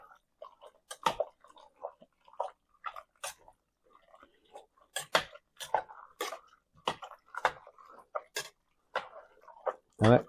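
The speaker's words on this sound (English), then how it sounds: "And then I'm going to stir that together." Heavy cream being stirred into chicken and noodles in a pot, a spoon scraping and tapping the pot in irregular bursts with soft wet sloshing, close and fairly quiet.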